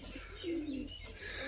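Caged pigeons coo in a soft, low, rolling burble that swells in the middle of the short stretch, close by and alone, with faint background hiss.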